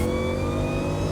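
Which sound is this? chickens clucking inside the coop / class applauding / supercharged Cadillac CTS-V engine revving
supercharged Cadillac CTS-V engine revving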